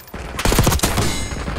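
Rifle fire in the shooter game Black Ops 6: a loud, near burst of rapid shots with sharp attacks and rumbling tails, packed into under a second, then fading reverberation.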